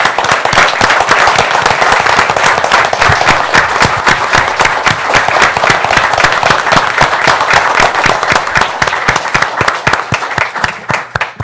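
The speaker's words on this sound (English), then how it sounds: "let's celebrate his life by thanking him, by giving him just a round of applause." A room full of people at a township board of commissioners meeting claps together in a sustained, loud round of applause that holds steady for about eleven seconds before thinning out at the end.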